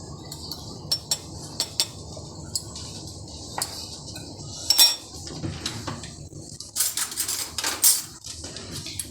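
Metal spoon scooping ground Turkish coffee into a small pot, two spoonfuls for two people, giving sharp clinks and taps against metal at irregular intervals over a quiet background.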